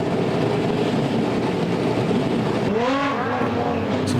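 Modified production race cars roar around the Lismore Speedway track, a dense, continuous engine drone with one car sweeping past close by near the end, its pitch swooping audibly.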